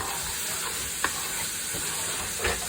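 Spiced minced meat for spicy spaghetti bolognese fries in a pan with oil absorbed into it, giving a steady sizzle broken by a couple of distinct clacks and scrapes of the stirring spoon.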